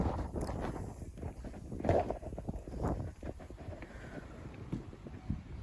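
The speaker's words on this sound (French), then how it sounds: "Il y a vraiment beaucoup de vent, mais il y a vraiment énormément de vent et il est glacial" Strong, icy wind blows by the sea, buffeting the microphone with low rumbling gusts and scattered thumps, fairly quiet and continuous throughout.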